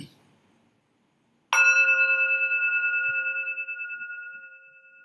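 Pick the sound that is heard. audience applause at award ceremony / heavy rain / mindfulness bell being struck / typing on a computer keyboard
mindfulness bell being struck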